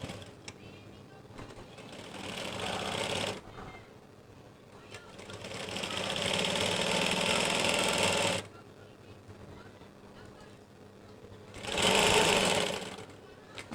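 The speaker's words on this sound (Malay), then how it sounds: "Jadinya jom kita jahit." Sewing machine stitching a concealed zip into a garment, three bursts of steady rapid needle chatter separated by pauses, close and fairly quiet.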